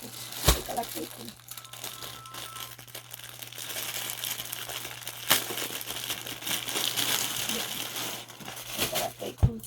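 Plastic packaging around a cotton kurti crinkles and rustles as it is unwrapped, close and fairly loud with sharp crackles and a few louder crunches over a steady low hum.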